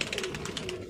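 Indian fancy pigeons, red-collared Lal Gandedaar birds kept in a loft setup, give soft, low coos. The coos are faint and continuous against background noise, with no one speaking.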